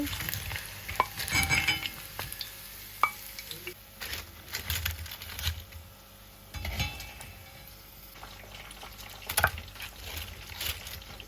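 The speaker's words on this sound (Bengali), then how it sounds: "ভাজা হয়ে গেছে, আমি এখন অন্থনগুলো তুলে নিচ্ছি" Crisp chicken wontons lifted from hot oil in a deep kadai: ongoing sizzle broken by sharp clinks and scraping of the utensil, with loud bursts of bubbling as pieces leave the oil.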